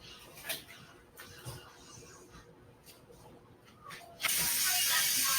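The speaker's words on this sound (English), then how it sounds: "put the chicken into the boiling water that I have over here on" Raw chicken lowered into a pot of boiling water on a kitchen stove sets off a sudden loud, steady hiss of steam and spray after several seconds of quiet, faint kitchen noise.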